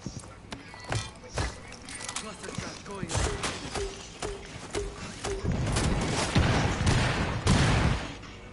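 A cluster charge goes off in Rainbow Six Siege as a rapid string of sharp bangs and impacts crackles through the scene. Voices talk over it and there are thuds and movement around the blasts.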